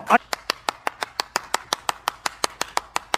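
A small group claps in honor of a speaker's ancestors during a televised Hindi debate, about fourteen sharp, evenly spaced claps in a steady rhythm, close and distinct, after a brief burst of voice at the start.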